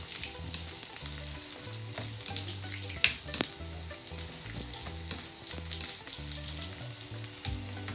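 Onions sizzle in a pan with ginger and garlic as they sauté for a Sri Lankan prawn curry. A steady crackle runs throughout, broken by a few clinks and scrapes of stirring, and no one speaks.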